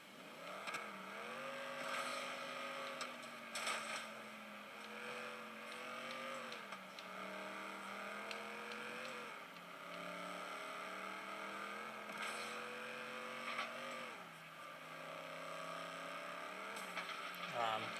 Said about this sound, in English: The cars sound really good